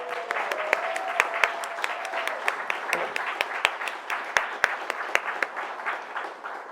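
An audience applauds at an evening conversation event, with crisp, distinct claps scattered irregularly over a softer bed of clapping that stays fairly even without swelling.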